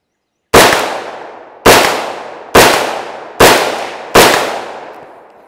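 A Sig Sauer MCX Regulator rifle fitted with a muzzle brake fires five sharp, loud shots outdoors, evenly spaced about a second apart, each crack followed by a decaying echo.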